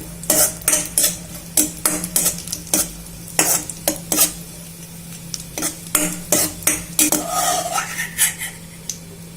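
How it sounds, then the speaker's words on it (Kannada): Raisins roasting in a pan for shavige payasa, with repeated sharp clinks and scrapes of a metal spoon stirring against the vessel over a faint steady sizzle, close and fairly busy. "ದ್ರಾಕ್ಷಿ ಸ್ವಲ್ಪ ದಪ್ಪ ಆಗೋವರೆಗೂ ಹುರ್ಕೊಂಡು ತಕ್ಕೊಳ್ತೀನಿ"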